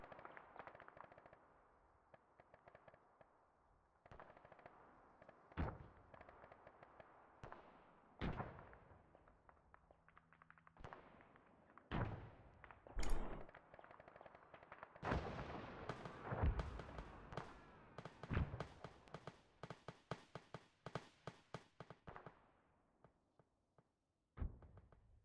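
Arma III combat brings repeated gunfire, with scattered single shots and rapid bursts at varying distances, some sharp and close, others dull, across a long stretch of fighting.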